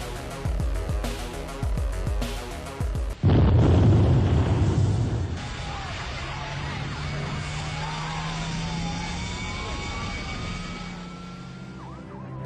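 Music breaks off into a sudden loud explosion burst that rumbles for a couple of seconds, then fades into a quieter, wailing tail.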